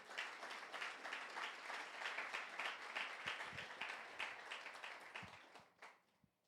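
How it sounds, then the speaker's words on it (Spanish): Church congregation clapping during a Spanish-language sermon, a steady, fairly quiet spread of applause that thins and fades out over the last second. "Dale un aplauso a Dios,"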